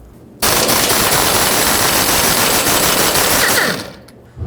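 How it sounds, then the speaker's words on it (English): A pneumatic air impact gun hammers at a front sway bar link nut on a 1996-2002 Toyota 4Runner, one loud continuous rattling burst of about three seconds that stops abruptly. "I'm going to try to break it free with my air gun"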